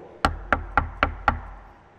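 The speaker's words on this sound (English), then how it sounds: "One day, we got a knock at the door." Five firm, evenly spaced knocks on a door, sharp and close, each ringing briefly before the next, with quiet after the last.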